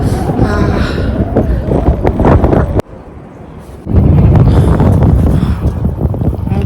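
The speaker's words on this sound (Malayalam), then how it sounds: "ഭയങ്കര തണുത്ത കാറ്റടിക്കുന്നുണ്ട്" Strong, cold wind near Mount Elbrus buffets the microphone in loud roaring gusts, dropping briefly to a quieter rush before surging back hard.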